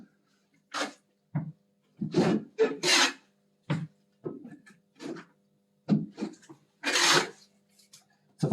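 A trowel spreads waterproofing compound across a wetroom wall in a series of close, rasping scrapes, each stroke separated by short silences, with no talk.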